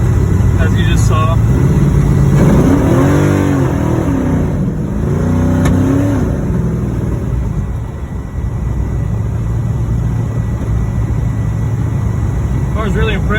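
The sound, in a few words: 1969 Camaro with big 850 horsepower engine accelerating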